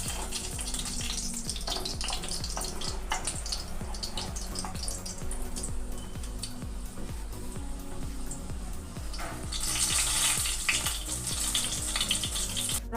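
An egg Mughlai paratha sizzles and crackles steadily in hot oil in a pan, with close, continuous frying and occasional louder spatters.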